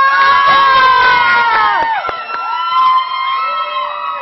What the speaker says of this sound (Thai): ขอเสียงปรบมือต้อนรับน้องปอ